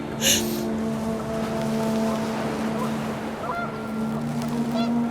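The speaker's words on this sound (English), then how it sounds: "And panicked geese appeared and quickly went." Panicked geese honk in a brief burst near the start, then a steady low drone and wind carry on from the video game What Remains of Edith Finch.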